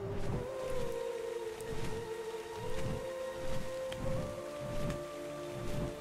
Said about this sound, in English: Thank God for rain. My dude was thirsty and the rain came down.